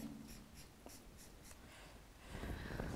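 A slightly faulty pen sketches a cat on paper with faint, close scratching strokes in a steady rhythm of short dashes, then a denser scribble toward the end.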